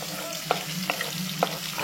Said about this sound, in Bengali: রসুনটাকেও হালকা ভেজে নেব যতক্ষণ না ব্রাউন কালার হয়ে যাচ্ছে।